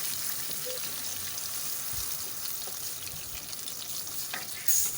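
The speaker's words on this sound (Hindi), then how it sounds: "इसका प्याज का पानी जब तक खुश्क होगा इसको जब तक भूनना है" Ground onion and garlic paste fries steadily in hot oil for a kofta curry, giving a dense, even sizzle stirred now and then, close up and without voices.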